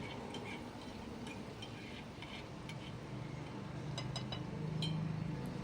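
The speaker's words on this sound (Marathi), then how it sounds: "आपण जे मशरूम मॅरिनेट करायला ठेवलेले ते त्याच्यात मिक्स करून घ्यायचे" Marinated mushrooms being stirred into a masala frying with Kashmiri red chilli make a quiet, steady sizzle with light scraping and a few small clinks of the spoon against the pan, close by.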